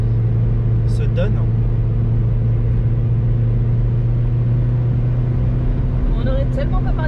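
A tourist car's engine drones loud and steady as it climbs a hill with a bend in Jordan, a constant low rumble filling the whole stretch with brief higher sounds near the start and end.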